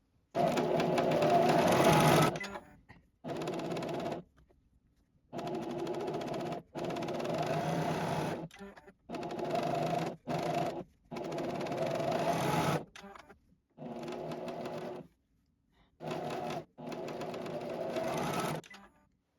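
A JUKI serger stitches fabric pumpkin sections in a run of short bursts, each starting and stopping with brief pauses between them, steady and close with no talk.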